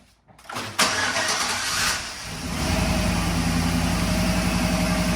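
A 2011 GMC Sierra pickup engine with new spark plugs cranks briefly and catches, then settles into a steady, loud idle with a low, even rumble close by.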